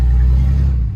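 A 2014 Cummins 6.7 turbo diesel truck engine rumbles through a 4-inch turbo-back exhaust, giving a loud, steady low drone held close by for a moment before it eases off slightly at the end.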